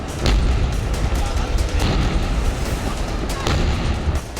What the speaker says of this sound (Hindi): फिर एक के बाद एक सिलेंडर में धमाके होने लगे